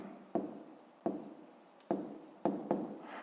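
Pen writing by hand on paper, a series of five soft, quick scratching strokes with short pauses between, close and quiet.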